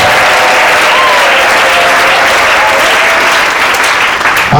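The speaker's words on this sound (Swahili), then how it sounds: "Mpe Yesu sadaka nzuri ya makofi ya sifa." Steady, dense applause from a church congregation during a communion service, loud and sustained throughout with no voices rising above the clapping.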